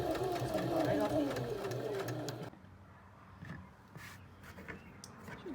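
A sewing machine runs a zigzag stitch along the curved edge of a fabric face mask, whirring steadily for about two and a half seconds before it stops, followed by quieter room sounds and a faint voice.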